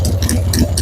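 Carbureted motorcycle engine idling smoothly near 1,000 RPM during mixture tuning, a steady close low-pitched putter with light ticking over under a second.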